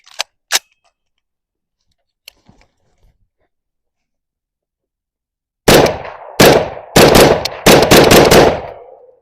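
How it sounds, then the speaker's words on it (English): Several loud, close gunshots fired downrange at night while testing a tactical weapon light, coming in a quick uneven string after a few faint clicks and near silence. "let's get a couple of rounds downrange"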